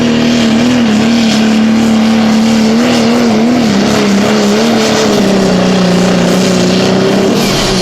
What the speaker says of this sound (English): Sound like he lost a cylinder.